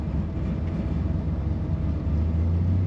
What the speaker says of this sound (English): Such a great idle sound on this car.